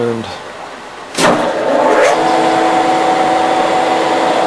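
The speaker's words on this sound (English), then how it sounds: "I'm up in high gear on the lathe, and we have the shifter lever here where you can adjust the speed." A Voest Dat lathe with a variable speed drive spins up in high gear, then settles into a loud, steady motor whine and drive hum with a rising tone in the first seconds.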